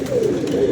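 A pigeon gives a single short low coo, close and clear, as pigeons head toward scattered grain.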